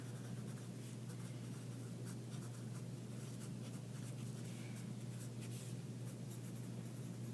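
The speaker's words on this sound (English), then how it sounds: "I'm going to write that down." Notes written by hand on paper make a soft, continuous scratching and tapping close by, steady throughout over a low constant hum, with no talking.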